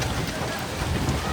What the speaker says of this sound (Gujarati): એટલો બધો વરસાદ પડ્યો છે ને ફરી ચાલુ થયો વરસાદ પાછો ચાલુ થયો